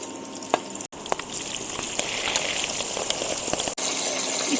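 Curry leaves hit hot oil that already holds garlic and dried chillies, for a Chettinad chicken curry, setting off a loud continuous sizzle and crackle with scattered pops.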